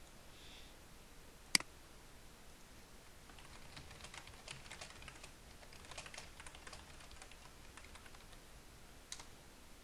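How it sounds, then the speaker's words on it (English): Quiet, steady typing on a computer keyboard, a soft run of small clicks with a couple of sharper key taps standing out, no voices. "typing on my other screen"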